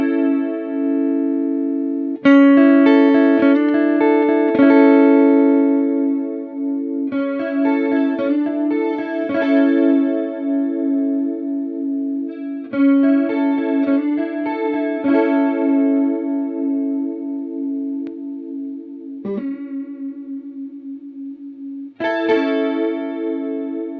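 Guitar through an Alexander Sugarcube stereo chorus pedal, a series of sustained strummed chords and picked notes with a shimmering, wavering chorus tone, played loud and close with short pauses between phrases and no talking.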